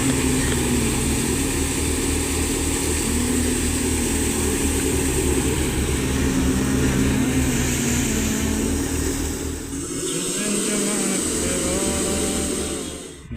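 A threshing machine runs on a farm as crop is fed into it from a trolley, a loud, steady engine drone with a harsh mechanical roar that shifts in tone near the end, with no voices.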